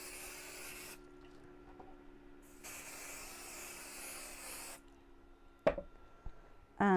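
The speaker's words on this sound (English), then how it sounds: "I'm going to use some 505 spray just to stick this to my wadding. So I'm spraying away from the machine." 505 spray adhesive is sprayed onto quilt wadding in two separate hissing bursts, each a couple of seconds long, close and steady, followed by a few soft clicks and handling noises.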